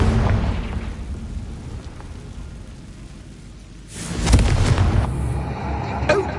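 A Confringo spell explosion in a video game bursts out midway as a loud, broad whoosh and boom that rises from a quieter rumbling background, with a few crackling bits trailing after it.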